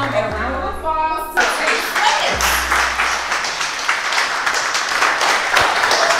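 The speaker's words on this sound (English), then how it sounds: "Warm welcome and a round of applause." A gathering at a Miami mansion applauds Chef Josh, who cooked breakfast, with steady clapping from a modest group, a tonal hum at the start, and voices mixed in.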